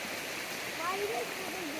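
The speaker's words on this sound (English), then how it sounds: "Can you hear the water?" Flowing water of a jungle stream at a crossing near Hua Chang Waterfall, a steady, moderately loud wash with faint voices underneath.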